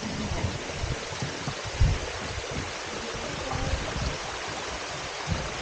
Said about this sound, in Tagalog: Ayun, ang ganda yung tubig.